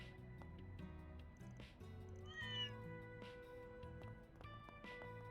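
A cat meows in the video game Trails Through Daybreak 2, with a few short mewing calls over a steady bed of background game music.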